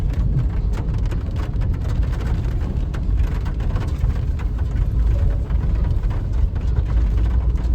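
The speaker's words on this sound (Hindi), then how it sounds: "अब बारिश भी शुरू हो चुका है देखो" Steady rain patters on a Ford EcoSport in Nepal, a dense continuous hiss with scattered sharper drops on the body, blended with a low rumbling drone throughout.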